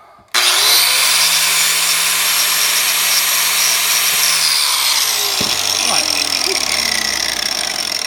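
An angle grinder cuts through a piece of metal windshield wiper blade, starting abruptly into a loud, sustained high whine with harsh grinding that runs unbroken for about eight seconds, close up.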